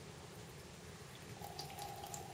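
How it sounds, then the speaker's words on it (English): Quiet pouring of a colorless liquid into a funnel, a soft steady trickle and splash that builds slightly toward the end, with no talk. "when I pour a colorless liquid into the funnel"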